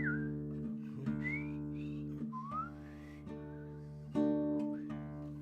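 A person whistles a tune with sliding, swooping notes over sustained accompanying musical tones at a Viennese song performance, clear and close.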